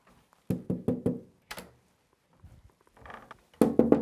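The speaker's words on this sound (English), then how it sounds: "The reason I'm knocking is just to make sure that someone's not in here." Knocking inside a dark house: a quick group of four sharp knocks, a lone knock, then faint shuffling and another fast cluster of knocks, close and loud against near silence.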